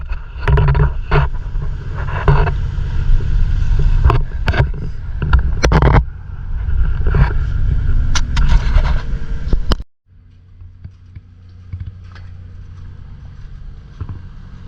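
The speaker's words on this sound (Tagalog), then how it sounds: "So ayun guys, sobrang lakas ng pump niya," Flood pumping station pumps running hard, pushing water into Kawayan River in Valenzuela during monsoon flooding: a loud continuous rumbling churn with clanks, which drops abruptly to a quieter steady hum near the end.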